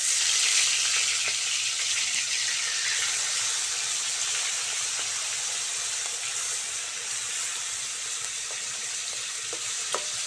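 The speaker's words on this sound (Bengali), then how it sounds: "প্রথমে কড়াই তেল দিয়ে মাছটা ভেজে নেব।" Khoira hilsa fish frying in hot oil in a wok, a steady bright sizzle and crackle with occasional sharp pops and light stirring, close and continuous with no talk.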